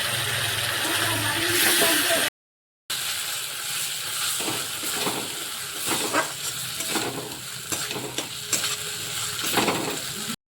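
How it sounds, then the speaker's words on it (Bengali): Chopped tomatoes drop into hot oil already seasoned with Kashmiri chilli powder for a Bengali aloo fulkopi, giving a steady close sizzle with scraping stirs, broken by a brief silent gap. "এবারে কেটে রাখা টমেটোগুলো দিয়ে দিচ্ছি।"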